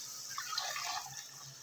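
Water poured into a cooking pot while making Sindhi pallao biryani, a soft, steady splashing rush heard faintly and close up with no voices.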